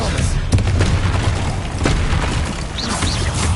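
Bombarda blasting spell going off in the Hogwarts video game, a continuous rumbling barrage of booming explosions with sharp bursts layered over game music and effects.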